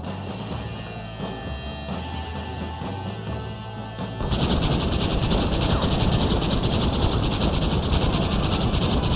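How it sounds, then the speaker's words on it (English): Gatling gun firing in the Red Dead Redemption video game, a dense, continuous roar of rapid shots that starts abruptly partway through and holds loud and steady to the end over game background sound. "The Gatling gun."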